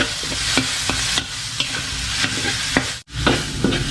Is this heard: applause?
no